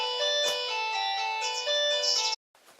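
A phone ringtone plays close and loud as a steady melodic tone for over two seconds, then cuts off abruptly into quiet room sound.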